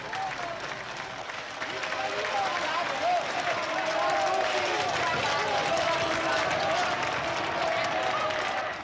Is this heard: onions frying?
no